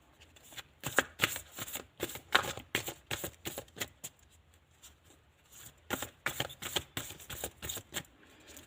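Tarot cards are shuffled and drawn in quick crisp riffling bursts, close by and alone, with brief pauses between runs.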